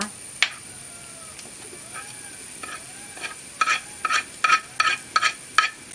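Ground masala and curry leaves fry in a pan, with a low sizzle beneath a series of sharp spoon scrapes and clinks that quicken toward the end, while a faint tone lingers in the background.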